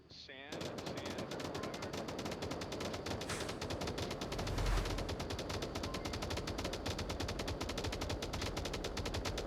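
Sustained automatic gunfire in the VR shooter Onward on the desert map Sand during a competitive tournament round, dense rapid bursts running nearly the whole time with a heavier thump midway.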